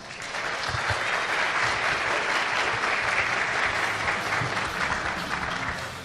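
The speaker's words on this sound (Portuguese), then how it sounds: "palmas" Steady, sustained applause from a conference audience at a PHP developer event in Curitiba, dense and even across the whole stretch with no voices standing out.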